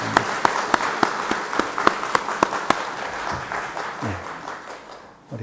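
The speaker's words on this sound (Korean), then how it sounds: "환영의 박수 하시죠" A church congregation claps to welcome a newly registered member: a fairly close, steady run of sharp, separate hand claps over about five seconds that thins out toward the end.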